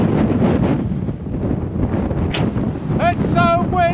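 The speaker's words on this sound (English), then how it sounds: "It's so windy!" Strong wind buffets the microphone on a beach along the Jurassic Coast near Old Harry Rocks and Durdle Door, a loud continuous rumble with bird calls chirping near the end.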